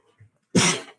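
A single sharp sneeze bursts out, loud and close, following a faint intake of breath.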